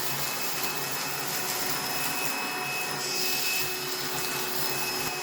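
A Black+Decker cordless Dustbuster handheld vacuum with cyclonic action runs steadily at close range, its continuous motor whine and airflow hiss holding level throughout, with no talking.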